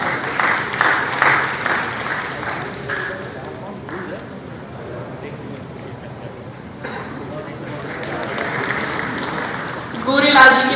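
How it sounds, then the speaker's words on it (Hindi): Audience applause at a ceremony where beneficiaries receive health cards: a crowd claps loudly and steadily, thinning in the middle and swelling again toward the end. "गोरेलाल जी के लिए एक बार जोरदार तालियां हो जाए।"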